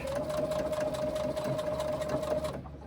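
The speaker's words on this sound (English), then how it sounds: "to the bottom, pivot and stitch for about 1 inch." A sewing machine runs steadily while stitching a fabric pocket pouch, a close continuous motor whir with a sustained hum that stops abruptly near the end.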